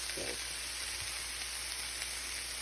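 A drained chili meat mixture hitting a hot pan gives a steady, close frying sizzle, an even crackling hiss with a few brief spatters.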